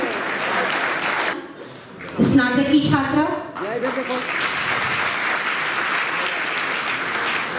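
Clapping at a university ceremony where the Chief Minister hands smartphones to students under a youth empowerment scheme; steady applause fills the hall, briefly giving way to an announcer's voice over a loudspeaker before resuming.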